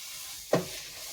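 Ingredients sauté in hot oil in a pan before sweet potato goes in, giving a steady soft sizzle with one sharp clunk from a utensil partway through; no one speaks.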